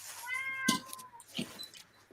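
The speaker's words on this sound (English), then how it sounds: "Did I just hear a cat?" A cat meowing in a room, one drawn-out harmonic meow followed by a shorter second cry, moderately loud and close, with no talking over it.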